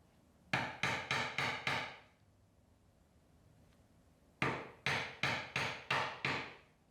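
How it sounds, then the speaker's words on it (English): Mallet blows drive a chisel through dovetail waste in walnut, two quick bursts of five sharp, evenly spaced strikes separated by a quiet pause, close and loud with no talking. "Chiseling the waist is one of the most important steps in dovetails"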